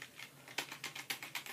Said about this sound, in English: you guys have no clue how hard it is to do on keyboard